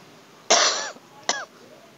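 Two sharp coughs, a long one followed by a shorter one about a second later, close by with nothing else around them.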